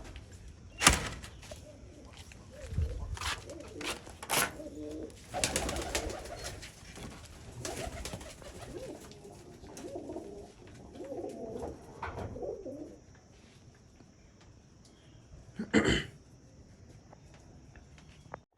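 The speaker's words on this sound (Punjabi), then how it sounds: "ਬਾਜ਼ੀਆਂ ਜਿੱਤੇ ਹੋਏ ਕਬੂਤਰ ਆ ਸਾਰੇ ਚੈੱਕ ਕਰ ਲਓ" Soft, low coos of racing pigeons from Punjab repeat in the background, broken by a few loud clacks and knocks nearby.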